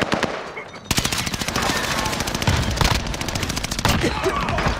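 Loud automatic-weapon fire rattles in rapid, sustained bursts during a Call of Duty Warzone Vanguard Resurgence match, with dense overlapping shots that barely pause over nearly five seconds.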